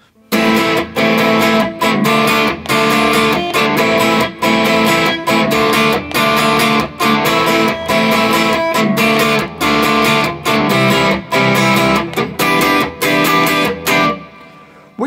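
Distorted electric guitar strums the chorus chords of a song in a steady, loud rhythm, with dense sustained chords broken by short rhythmic gaps and no talking.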